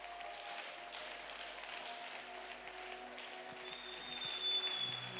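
A church congregation applauds at an evening service, a soft, steady wash of distant clapping that swells slightly near the end, with faint sustained tones in the background.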